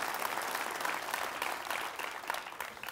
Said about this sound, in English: I think that's worth applause, isn't it?